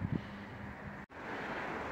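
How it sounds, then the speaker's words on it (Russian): Steady wind blows outdoors in a village garden on a cold day, a continuous broadband rush buffeting the microphone, with a brief dropout partway through. "Ветер дует уже четвертый день."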